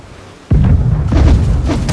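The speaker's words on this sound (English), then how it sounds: "Left side cannons!" Ship cannons fire in the naval combat game Blackwake, a loud sudden boom followed by rumbling blasts and further cannon shots ringing out, close and heavy with no talking.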